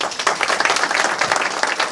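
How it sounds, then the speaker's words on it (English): Audience applause at a governor's bill signing on firefighter disability bills, a loud, close burst of many hands clapping steadily for a couple of seconds. "we'll hold the applause to the end."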